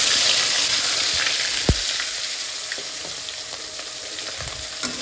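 Anchovies (ikan teri) fry in hot oil in a pan with a constant, close-up sizzle and crackle, broken by a few sharp pops and the scrape of stirring.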